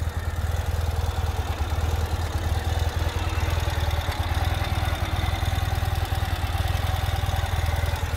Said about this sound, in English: As you can see, the bike runs beautifully.